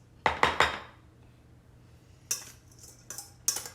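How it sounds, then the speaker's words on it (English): Cooked ground meat and onion are dumped from a pan into a bowl, giving three quick scraping clatters, then a pause and a few sharper metallic scrapes and clinks, close and fairly quiet. "I'm just gonna dump it in my pan, in my bowl."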